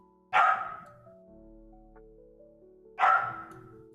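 A dog lets out two loud, separate barks close by, roughly three seconds apart, with a faint low hum between them and no talking.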